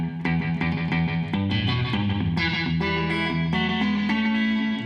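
Guitar chords and single notes played through a Mooer Black Truck effects unit with a short slapback delay, each strum followed by a quick echo in a steady, rhythmic pattern.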